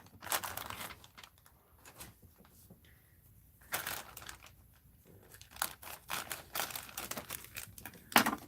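Sealed plastic bags holding broken jewelry are cut and torn open, giving bursts of close crinkling and crunching plastic with quieter pauses between handling.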